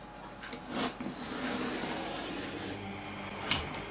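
A mat knife trimming excess mounting board while mounting a print, heard as a quiet, steady scraping rasp with a few soft knocks and a brief sharp click near the end.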